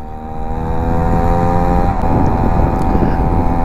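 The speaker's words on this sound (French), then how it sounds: "j'attends plus l'échappement sur celle-là que quand je suis sur ma moto" A Peugeot 103 youngtimer moped ridden through a village, its small two-stroke engine and exhaust droning steadily and close, with a brief throttle change midway.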